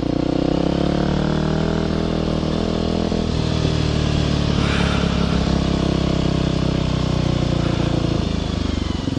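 Dual sport motorcycle cruising through a paved suburban neighborhood on a nice day, its engine a loud, continuous drone heard up close with wind rush, with a slight shift in pitch partway through.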